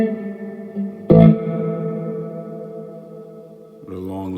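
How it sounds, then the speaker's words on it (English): An electric guitar played through a Galaxy reverb stock preset: a sharp strummed chord blooms into a long, lush, shimmering tail that slowly decays before another chord is struck near the end. "So here's with reverb,"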